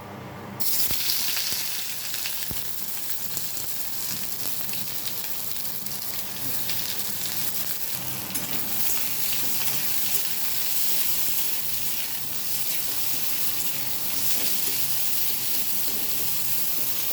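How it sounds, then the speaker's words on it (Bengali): Nigella seeds and chopped onion frying in hot oil for a spicy eggplant curry, a loud, dense, continuous sizzle close to the pan that starts abruptly and holds steady throughout, with faint stirring, no voices. "এবার এর মধ্যে দিয়ে দেবো কালো জিরে, দিয়ে দেবো পেঁয়াজ কুচি"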